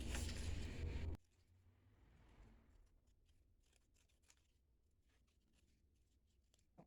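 Scissors cutting a printed paper cake topper, a series of small crisp close snips in an irregular rhythm after a brief loud burst of noise at the start.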